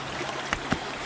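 A mountain stream in the Pyrenees rushes in a steady, close wash of water, broken by two brief knocks.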